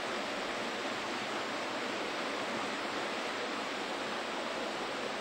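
A babbling brook runs beside a garden where ivy grows, giving a steady, even rush of water that stays close and constant throughout, with no voices over it.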